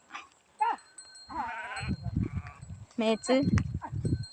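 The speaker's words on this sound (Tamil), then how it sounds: "நேரம் வந்தால் தொழுவுக்கு வந்துடும் ஆடு." Sheep at a farm pen bleat twice, each call loud and close, separated by a few seconds and mixed with low thumping movement.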